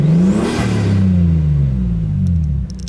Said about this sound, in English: we're going to give her a little rev